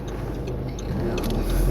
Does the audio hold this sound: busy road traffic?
yes